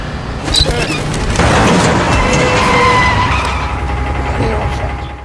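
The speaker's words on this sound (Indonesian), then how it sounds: "sebuah truk gedong yang berisik datang hingga membuat seekor burung terganggu" A noisy box truck approaches in a film, a loud broad roar of engine and tyre noise that swells in the first seconds and holds steady before easing off, with skidding-like hiss across the mix.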